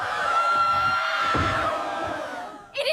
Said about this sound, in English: the girls fall to the floor screaming